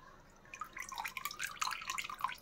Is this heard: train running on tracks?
no